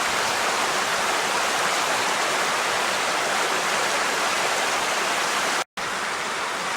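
Water pours down an ice waterfall at Panther Springs in a loud, steady, unbroken rush, cut off briefly near the end.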